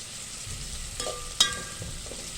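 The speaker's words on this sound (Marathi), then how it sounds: "आपण आता हा कांदा भाजून घेणार आहे लालसर होईपर्यंत" Onions frying in a pan for masale bhaat, a soft, steady sizzle close by, broken by a faint knock and then a sharp clink of a utensil against the pan, with no talk.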